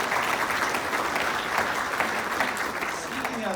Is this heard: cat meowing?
no